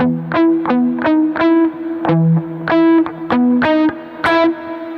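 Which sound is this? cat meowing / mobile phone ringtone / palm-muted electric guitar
palm-muted electric guitar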